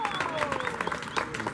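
An audience at a 90's Pop Tour presentation gives brief, scattered applause beneath a speaking voice.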